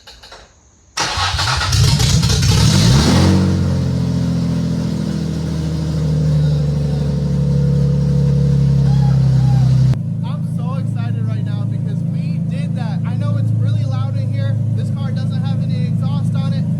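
An Infiniti G35 engine cranks briefly, then catches and starts, revving loudly before settling into a steady rumbling idle close by. Voices talk over the running engine in the second half.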